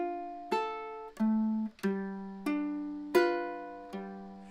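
Acoustic guitar finger-picking a basic Danny Boy pattern with chords applied, six clear plucked notes and chord changes ringing out in a steady, unhurried rhythm, close and solo with no voice.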